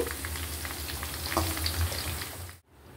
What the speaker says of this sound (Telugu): డీప్ ఫ్రై చేసుకోవాలి బాగా ఆయిల్ హీట్లో ఉన్నప్పుడే. అలా కొంచెం క్రిస్పీగా వేయించుకోవాలి